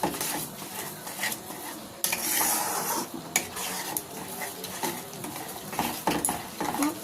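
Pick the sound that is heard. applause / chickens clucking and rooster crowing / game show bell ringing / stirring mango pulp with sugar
stirring mango pulp with sugar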